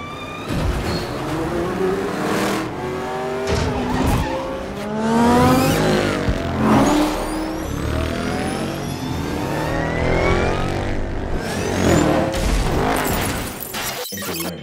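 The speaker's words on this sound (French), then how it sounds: "cette scène de course est sans conteste une des séquences les plus utilisées en termes de démo home cinéma" Racing cars roar past in a film race sequence mixed for Dolby Atmos, engines revving and sweeping by one after another with tire squeals, loud and continuous throughout with no talk.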